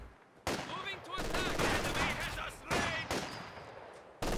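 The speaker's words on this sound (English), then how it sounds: "Now we're going to do SVT conscripts versus LMG Greens long range." SVT rifle conscripts trade gunfire with LMG Grenadiers at long range in Company of Heroes 2, with sharp rifle cracks and rattling machine-gun bursts in overlapping volleys, separated by brief lulls.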